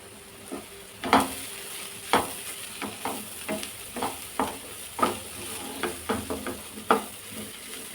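Vegetables fry in a pan while being stirred, a soft steady sizzle broken by repeated light scraping and clinking strokes of a spoon against the pan, close and fairly quiet.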